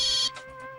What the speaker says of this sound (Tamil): அவங்க தான் ஃபோன் பண்றாங்கன்னு நினைக்கிறேன்.